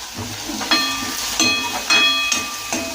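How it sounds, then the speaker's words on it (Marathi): Onion, garlic and red chilli sautéing in a pan for a mustard-greens dish, a steady hiss and sizzle with a few soft clinks and stirring knocks spaced through it, close and continuous with no talking. "हे सर्व 2 मिनिटे परतवून घ्या."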